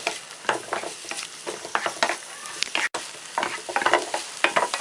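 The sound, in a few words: onion being lightly sautéed in a pan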